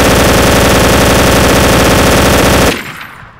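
An MG42 machine gun fired in Garry's Mod as one loud, continuous very rapid burst lasting nearly three seconds, then cutting off abruptly into a short fading echo.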